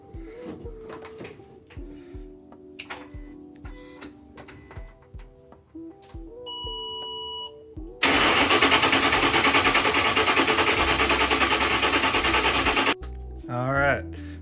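A 1958 Ford F250 pickup engine cranks and catches, bursting into a loud, steady, broadband roar for about five seconds before cutting off, preceded by clicks, clanks and shop sounds while people talk.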